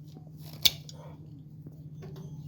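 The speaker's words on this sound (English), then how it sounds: "I'm going to go ahead and snip that fuel line there" Cutters snip through a fuel line with a single sharp, close click, set against a quiet low hum with faint handling noises before and after.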